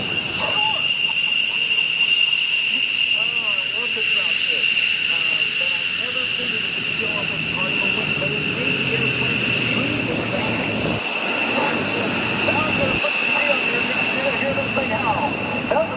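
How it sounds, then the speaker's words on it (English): A Louisiana Air National Guard F-15C Eagle at a New Orleans airshow gives off a sustained high-pitched howl from air rushing over its inboard gun barrels, over a broad jet hiss, while people talk nearby. "It's just those two inboard gun barrels. That's all that howling is."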